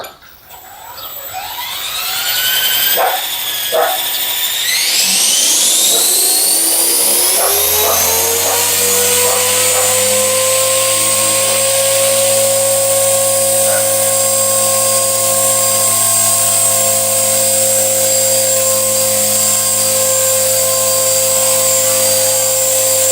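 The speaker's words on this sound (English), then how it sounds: "So anyway, we're going to do a hover test." A Blade 450 RC helicopter spools up after repairs, its whine rising steeply over the first few seconds into a loud, steady, high-pitched rotor and motor drone that holds through a continuous hover with no talking.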